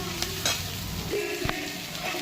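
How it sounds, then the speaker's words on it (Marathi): Okra sizzling in a hot pan over full gas flame while being stirred, with soft scraping strokes and a steady frying hiss close up, no voices. "तसंच तीच प्रोसेस फुल गॅसवर परत अशी परतवत राहायची, म्हणजे भेंडी छान फ्राय होते आणि चिकट होत नाही।"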